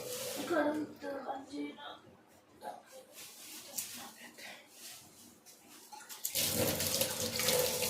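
Voices chat at first, then a tap opens and water gushes loudly and steadily into a basin for the last couple of seconds.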